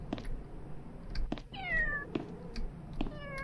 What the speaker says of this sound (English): But there's a kitty behind that one. I hear a kitty.